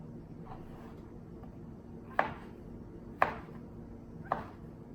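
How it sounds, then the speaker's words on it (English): A knife chopping a mushroom into cubes on a cutting board, three crisp, evenly spaced chops about a second apart, close and fairly quiet. "I'm going to go ahead and chop it again in the opposite direction so I get nice cubes"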